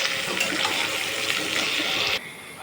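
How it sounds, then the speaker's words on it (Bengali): Onion and capsicum sizzle in oil left over from frying chicken, a steady close hissing crackle that cuts off abruptly near the end and leaves a quieter hiss. "এবার ওই চিকেন ভাজা তেলেই আমি পেঁয়াজ আর ক্যাপসিকামটা ভেজে নেব।"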